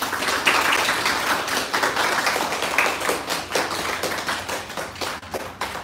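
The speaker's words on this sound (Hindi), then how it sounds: "जोरदार तालियां सभी के लिए" Acting-class students give a burst of lively applause indoors, many hands clapping together at close range for several seconds.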